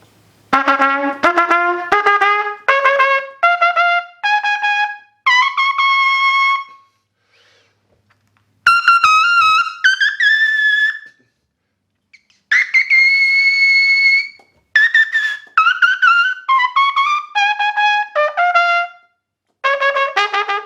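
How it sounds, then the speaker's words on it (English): A trumpet mouthpiece played alone without modifications buzzes through runs of quick, separately tongued pitched notes, descending and rising, in several bursts separated by short silences, loud and close. "Let's go back to the mouthpiece that has no modifications like that"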